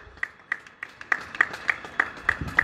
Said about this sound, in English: I kind of clap because I've got my phone in my hand